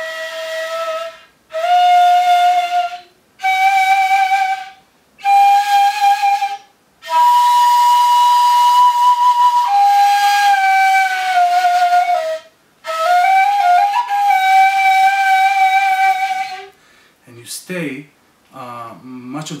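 A ney flute plays the basic notes of maqam Saba in a string of breathy sustained tones, each separated by a short pause. Some notes bend or glide, and a brief different sound follows at the end.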